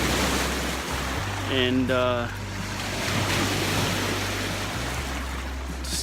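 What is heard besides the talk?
waves on the shore at Marquette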